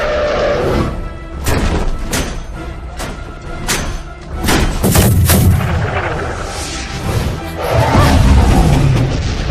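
Cannon fire from a ship in an animated adventure film: a rapid series of loud booming blasts and crashing impacts, with heavy rumbling echoes in between.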